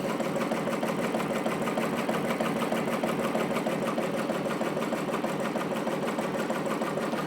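A Ricoma MT 1501 embroidery machine runs steadily, a fast, even mechanical chatter of needle strokes with a constant hum that holds level throughout, with no voices.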